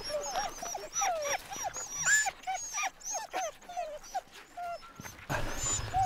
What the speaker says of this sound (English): So the dogs are a little bit eager to go